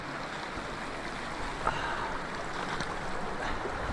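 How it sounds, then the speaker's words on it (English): Creek water running into a small pool on the John Muir Trail, a steady close rushing flow with no voices. "Cold plunge in the creek, found a nice little pool."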